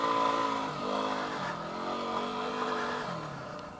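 Engine revving hard with the throttle cranked, a steady rising-and-falling drone held under load on stock tires through heavy, wet ground, loud and close for the whole stretch.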